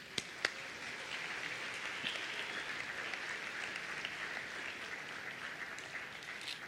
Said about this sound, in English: A round of applause for Ricky, please.